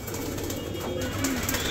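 Fighting pigeons in Amroha coo softly and repeatedly amid a steady background hum, with faint wing sounds.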